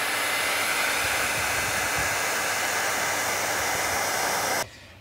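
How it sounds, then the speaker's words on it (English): A low-powered 12-volt travel hairdryer blows a steady, loud, unbroken whoosh while defrosting a frozen van in a snowstorm at -20°C in the Turkish mountains, then cuts off abruptly near the end. "it's a travel hairdryer, so it's not a super duper high powered one"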